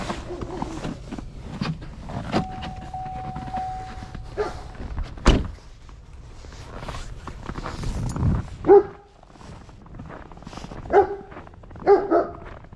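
A dog barks a few times, sharp and moderately close, scattered among thumps and a door-like slam in a quiet room.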